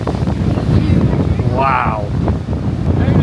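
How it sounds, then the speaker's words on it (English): Strong gusty wind at a Florida beach buffets the microphone in a continuous roar, with a voice exclaiming briefly midway. "It's so windy."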